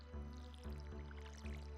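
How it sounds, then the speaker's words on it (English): Crops being watered with a watering can in the farming game Stardew Valley, three short soft liquid splashes at even intervals, quiet and with no talk over them. "Fortunately, in this game, it doesn't matter if you water a plant a little extra."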